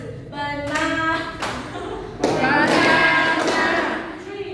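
Clapping marks the syllables of simple words in an early literacy class, with several crisp, evenly spaced hand claps near and loud, interleaved with spoken words.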